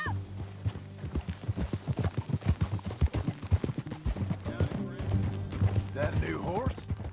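Horse hooves clip-clopping at a steady riding gait in Red Dead Redemption 2, rhythmic thuds close by with a whinny near the end, while characters talk over them.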